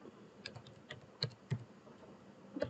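Typing on a computer keyboard, a quiet run of scattered key clicks at an uneven pace with a few sharper taps, close by and without speech.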